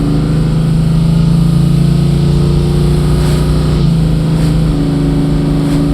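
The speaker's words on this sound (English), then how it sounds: "Exhaust is extremely aggressive." A 1973 Ford Mustang Mach 1 tribute with a 351 V8 and aggressive exhaust drones loud and steady at close range, its note rising and falling slightly as it revs in gear.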